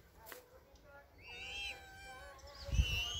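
A hungry black kite calls outdoors with thin, high, wavering whistled cries that rise and fall over a couple of seconds, moderately near, with a person speaking and a thump of handling noise underneath.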